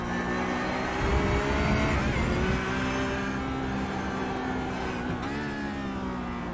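A GT3 race car on the Rudskogen circuit runs at full throttle, its engine a loud, steady, close roar with rising harmonic pitch as it accelerates down the straight, holding near-constant volume throughout.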